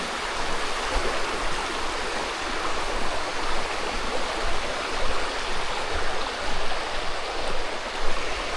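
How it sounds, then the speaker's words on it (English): A river's running water rushes and burbles continuously, a dense, steady wash of flowing sound close by with no voices, near Malin Bridge in Sheffield. "I'm transfixed by the sound of running water."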